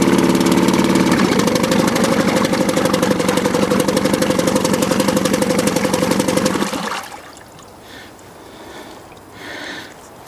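Mercury Mark 10 outboard engine running in forward gear in a test bucket, a loud, rapid, even mechanical chatter that cuts off abruptly near the end, leaving faint background noise.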